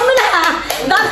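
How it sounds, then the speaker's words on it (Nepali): A short burst of hand clapping at a small family party in honour of an eating-contest winner, a few sharp claps in a loose rhythm mixed with voices talking over them. "साथ सम्मान ताली बजाउनु न"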